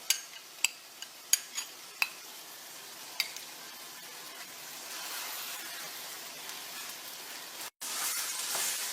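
Minced meat frying with yogurt on full heat for keema, a continuous sizzle under a run of sharp utensil clicks and taps at the start. It swells into a louder hiss near the end after a brief gap.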